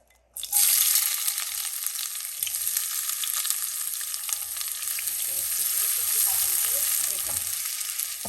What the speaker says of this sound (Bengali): এখন দিয়ে দিচ্ছি এই যে একটা পেঁয়াজ কুচি।